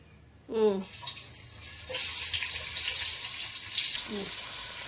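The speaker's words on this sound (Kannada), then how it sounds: "ಚಾಪ್ ಮಾಡಿದ್ದು ಫಸ್ಟ್ ಈರುಳ್ಳಿ ಹಾಕೊಂತೀನಿ ನಾನು" Chopped onions drop into hot oil for mutton methi kheema and start a loud, steady sizzle that keeps going. A brief clatter comes at the start, with faint background sounds and no clear speech.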